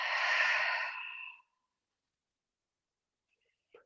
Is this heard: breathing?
yes